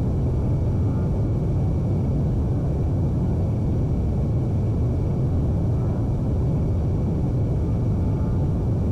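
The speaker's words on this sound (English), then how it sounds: "Hold the pitch at plus 10 degrees and let the aircraft fly itself off the runway." An A-10A jet taking off in the flight simulator game LockOn Flaming Cliffs 2.0: a steady, loud, continuous engine roar and rumble holding evenly for the whole stretch with no voices.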